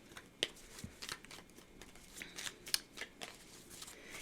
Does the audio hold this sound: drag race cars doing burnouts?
no